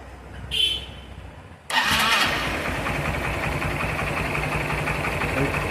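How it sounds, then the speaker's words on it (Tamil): A bike engine suspected of seizing is started after a brief whir of the starter, then settles into a loud, steady idle close to the microphone. "இப்போ வண்டி நம்ம ஸ்டார்ட் பண்ணுறோம்."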